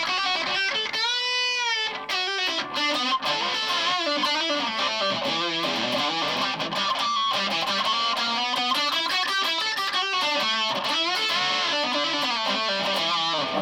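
An Aria Pro II PE600 prototype electric guitar plays with heavy distortion, a dense, continuous stream of sustained notes and chords with no talking.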